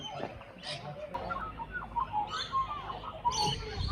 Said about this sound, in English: Some galahs.